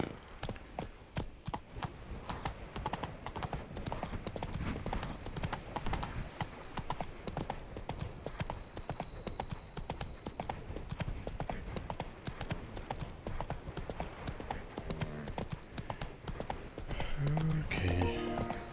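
Galloping horse hooves from the Witcher 3 video game pound in a fast, continuous clip-clop rhythm for the whole stretch, with a voice talking briefly near the end.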